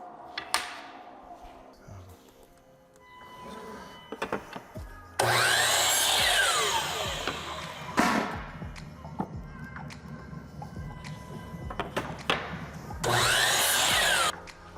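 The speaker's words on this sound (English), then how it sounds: "Now we go cut them to length on the chop saw or the upcut," A chop saw cuts MDF skins and fillers to length, sounding as two loud whining bursts of several seconds each, with clatter and handling knocks of the workpiece between the cuts.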